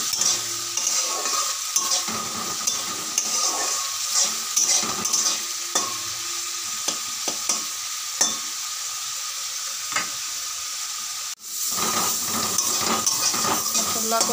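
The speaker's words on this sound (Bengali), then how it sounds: "মশলাটা ভালো করে কষাইয়া দিই।" Masala spice paste being fried and stirred in a pan, a constant close sizzle broken by repeated scraping strokes of the spatula and a sharp clank near the end.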